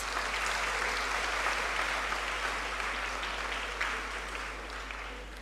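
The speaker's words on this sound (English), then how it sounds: "Let's give him another round of applause." An audience at an inaugural university lecture in Ghana breaks into sustained applause, a dense even wash of clapping that holds steady and eases slightly toward the end, with no voices over it.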